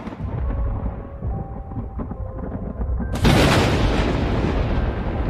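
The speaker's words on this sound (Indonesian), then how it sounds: "Di luar ruangan, samar-samar terdengar suara petir dari langit lembah larung geni." Thunder rumbling over a valley, a low rolling grumble that swells into a sudden loud crash of sound halfway through and keeps roaring, with no voices.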